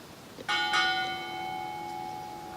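A ship's bell is struck twice in quick succession at a US Navy retirement ceremony, loud and close, its bright metallic tone ringing on and slowly fading.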